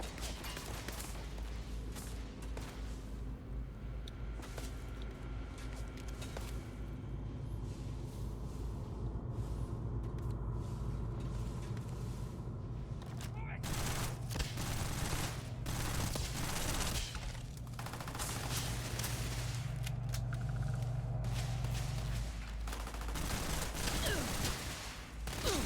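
Sustained gunfire in the space game Starfield, a dense steady rattle of shots running throughout over a low droning hum, with a brief burst of heavier impacts partway through.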